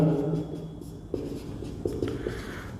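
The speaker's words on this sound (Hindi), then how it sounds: "अब मैं लिखता हूँ आंसर" Pen writing an answer by hand on paper during a Class 10 maths lesson on linear equation word problems, with soft steady scratching strokes and a few sharper taps, close and fairly quiet, with low background noise and no speech.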